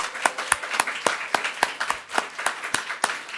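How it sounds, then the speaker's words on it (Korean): A congregation claps during a Sunday church service, giving sharp, distinct handclaps in a loose, fairly regular rhythm that sound fairly close, with faint room noise between the claps. "다시 한번 여러분 박수 한번 부탁드립니다."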